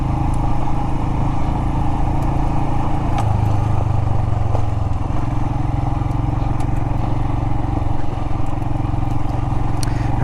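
A Royal Enfield Himalayan adventure motorcycle rides over medium-sized desert rocks, its engine droning steadily and loudly throughout, with light clatter and knocks from the rough ground mixed in.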